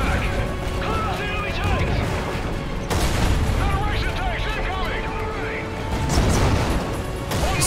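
Tank cannon fire and heavy battle noise in the Call of Duty: Ghosts campaign, with dense rumbling blasts and mechanical clatter running throughout and a few sharper booms standing out. Voices are audible over the combat.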